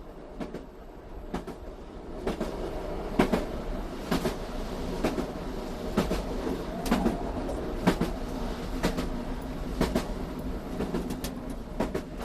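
A train running on the West Highland Railway along the eastern bank of Loch Treig, a steady rolling rumble with regular clicks from the rails, continuous and fairly close.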